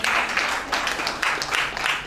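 Audience applause at a business opportunity expo, a dense wash of clapping hands that swells and eases in waves over about two seconds, fairly loud and close.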